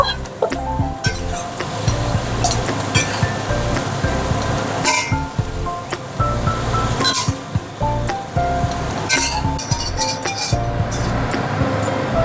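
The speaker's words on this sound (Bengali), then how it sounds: "ছোলা কচুটাও ভাজা হয়ে গেছে, এবার এই বাটিটার মধ্যে তুলে নেব" Fried taro (chhola kochu) is lifted out of hot oil into a bowl during a home vegetarian cooking session, with repeated close metallic clinks over a steady background sizzle.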